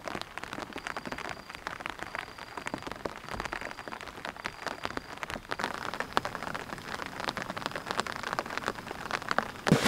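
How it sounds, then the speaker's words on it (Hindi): Steady rain patters densely on a surface nearby at a forest campsite in the morning, a continuous hiss of drops with no voices. "बारिश हो रही है ऊपर से"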